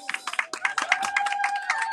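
A congregation at a wedding blessing breaks into brief, lively applause, many hands clapping close together in a quick, uneven patter that builds and holds over a murmur of voices.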